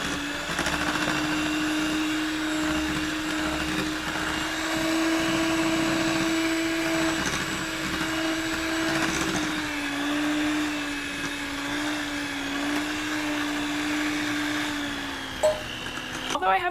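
An electric mixer runs steadily while mixing chai cookie dough as dry ingredients are added, a constant close whirring motor hum that holds for the whole stretch and shifts slightly in pitch near the end.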